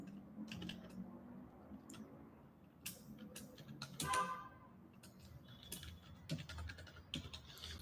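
Computer keyboard clicking as Python code is typed, quiet irregular bursts of close key taps with short pauses, no talking.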